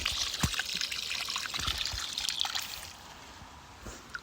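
Water trickles and splashes out of a homestead ram pump still flushing debris, a close, uneven dribbling with small spurts that eases off toward the end.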